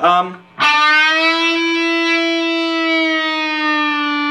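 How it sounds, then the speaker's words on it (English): A distorted electric guitar note picked, then bent upward and held, sustaining with a rich harmonic buzz and lingering reverb, played alone. "I like a lot of distortion on my amp and some reverb"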